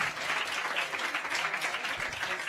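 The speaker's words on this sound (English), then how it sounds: "A round of applause for them" An audience at a women's healthcare event applauds evenly and steadily, a soft wash of many clapping hands with no voices rising above it.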